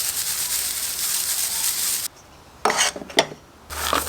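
An off-grid jaw crusher breaks big chunks of gold ore, giving a harsh grinding roar close by, then a brief drop, a few crunching bursts and the grinding resuming.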